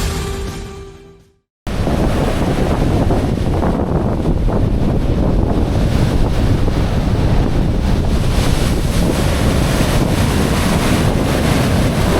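Sea waves crashing at Kurumpanai beach near Kulachal: a continuous loud roar of surf buried under heavy wind buffeting on the microphone, with no talking.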